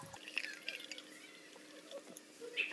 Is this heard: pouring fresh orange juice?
yes